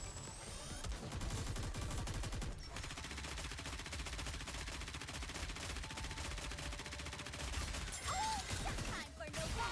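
Gunfire in the video game Goddess of Victory: Nikke, a dense, continuous rapid-fire rattle that runs almost the whole time, with brief pauses and game effects mixed in.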